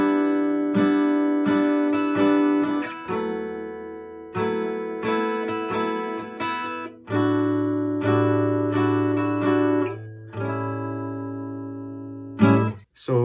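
Acoustic guitar strums chords from a song, ringing bright repeated strums grouped in phrases with short pauses between chord changes.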